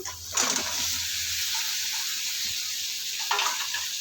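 Figs and potatoes hit hot oil and spice paste with a loud hiss, settling into a steady, close sizzle that flares again near the end.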